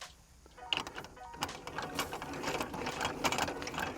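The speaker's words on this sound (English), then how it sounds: "We simply pull this lever out here, put the hand under there, let it drop down," Stabiliser leg on a Star Vision PX2 caravan released by lever and dropping down, giving a series of close metallic clicks, clanks and ratcheting knocks over about four seconds.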